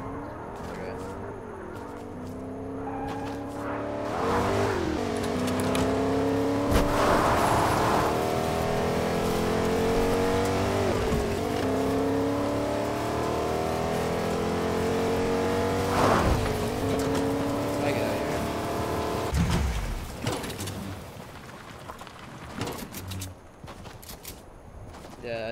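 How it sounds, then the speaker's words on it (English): Engine of a truck driving in Fortnite, a loud sustained rising and falling rev with gear-shift sweeps and a few sharp impacts, heard under players talking. "I'm grabbing a truck."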